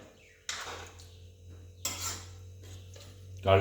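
Dishes and utensils clink and clatter in a home kitchen, with a few distinct knocks spaced apart over a low steady hum.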